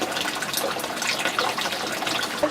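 Hot spring stream water in Idaho flowing steadily, a continuous gushing, splashing rush heard close by with no voices.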